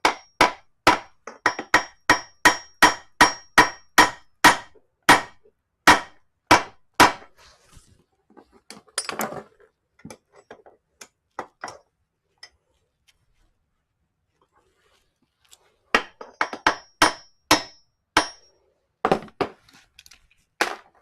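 Light hammer taps seat a part on a Ford Festiva six-speed transmission: a fast run of sharp metallic clangs, a pause with scattered softer knocks, then another quick burst of ringing taps, close and crisp.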